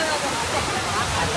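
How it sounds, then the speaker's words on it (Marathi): The Kundamala waterfall roars as a dense, steady rush of falling water, loud and unbroken, with a voice faintly present beneath the noise. "इथून बघू शकता हा धबधबा आहे. सर्वात मोठा धबधबा कुंडमाळ्याचा."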